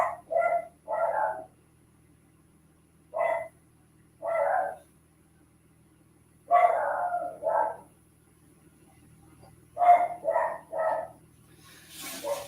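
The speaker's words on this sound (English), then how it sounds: "Cue the dog." A dog barks in several short clustered bursts of two or three yaps, fairly close and loud, separated by quiet gaps over a faint steady background hum during a live tattoo-inking session.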